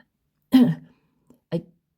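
A store clerk gives a short throat clear, one gruff burst followed after a pause by a smaller second one, close and dry against silence; this is a narrator's voice imitating the sound.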